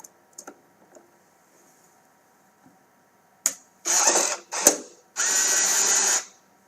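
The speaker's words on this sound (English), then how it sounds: "And your motors are sounding great." Freshly replaced drive motors on a TAO/LX7 unit are powered up after quiet handling clicks, producing a few loud, close whirring bursts of a second or so each, with short pauses between them.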